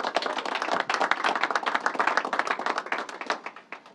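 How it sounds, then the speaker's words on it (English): A crowd applauds at a press announcement by the New York governor, crisp overlapping claps that hold steady and then gradually thin out and fade toward the end. "Let's give him a round of applause."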